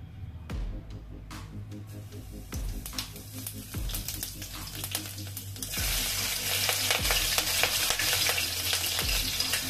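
Chopped green chilies, cumin and ginger sizzle and crackle in hot oil while a utensil repeatedly scrapes and stirs the pan, the frying growing louder toward the end.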